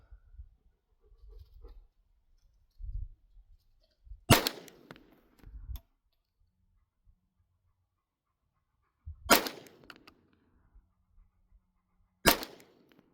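Three sharp .22 LR rifle shots fired with Remington 36-grain ammunition at a 25-yard target, spaced several seconds apart, each a crisp crack with a short tail against quiet, with faint handling noise between.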